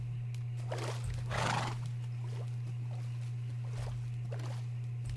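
A Minecraft horse lets out a loud, short whinny near the start, followed by a few softer snorts and scattered hoof steps over a steady low background hum.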